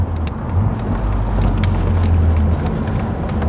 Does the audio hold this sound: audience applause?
no